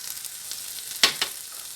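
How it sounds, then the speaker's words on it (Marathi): Tomato and turmeric sautéing in a pan, a faint low sizzle with two quick scraping stirs close together near the end. "आता मी यात टोमॅटो घालून परतून घेणार आहे. टोमॅटोबरोबर मी हळद पण घालून घेते."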